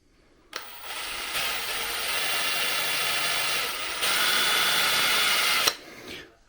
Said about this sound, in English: Probably shouldn't be drilling towards my fingers,